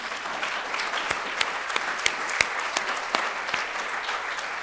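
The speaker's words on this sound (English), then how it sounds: "If they would stand for a quick round of applause." An audience at a physicians lecture applauds board of directors members, a short burst of dense clapping with a few sharp, louder individual claps standing out near the front.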